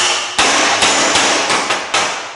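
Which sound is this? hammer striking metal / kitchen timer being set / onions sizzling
hammer striking metal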